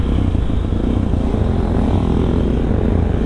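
Supermoto motorcycle engine on a night ride, a steady, loud, close drone with a rough pulsing low rumble that holds evenly throughout.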